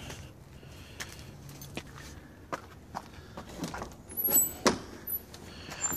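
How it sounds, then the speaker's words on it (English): Footsteps walking into a property with aluminum siding and front awnings, faint and irregular steps at close range with a louder cluster of shuffling and knocks near the end, no talking. "Walk to the inside of the property"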